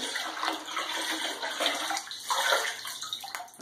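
Yeast starter poured straight into about 20 litres of cold wort in a home-brew fermenter, a steady splashing liquid pour lasting a few seconds, close and fairly quiet with no talking.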